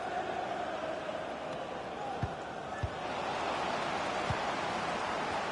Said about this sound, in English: I know the crowd are certainly making themselves heard